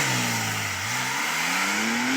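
A manual Porsche 911 Sport Classic accelerates from a standstill, its engine revving up, dipping briefly at a gear shift, then climbing again, loud and close.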